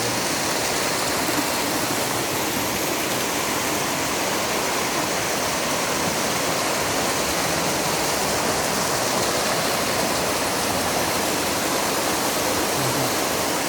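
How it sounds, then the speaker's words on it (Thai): Thararak Waterfall near Mae Sot in Tak, Thailand, pours down from a mountain in a loud, steady roar of rushing water. The sound is close and unbroken, with no voices. "น้ำตกไหลจากยอดเขาลงมา"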